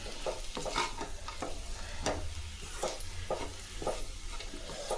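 Potatoes sauté on a medium flame for a fry, a soft continuous sizzle punctuated by regular scraping strokes of a stirring spoon, fairly quiet and close, no talking.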